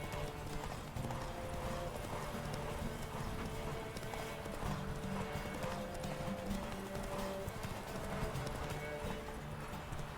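Roach the horse galloping in The Witcher 3 video game, rapid steady hoofbeats close by with a soft neigh, over a busy game mix.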